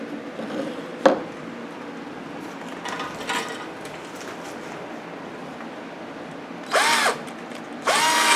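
A power drill whirs in short bursts while a hole is wobbled wider, two loud spurts near the end with quieter clicks and handling noise earlier, no talking.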